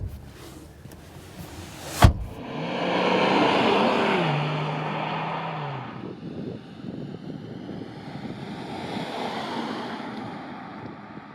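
A Mercedes C-Class C400 Coupé engine starts with a sharp click, then a rising, swelling crank-and-catch that settles into a steady, softer idle heard from inside the car.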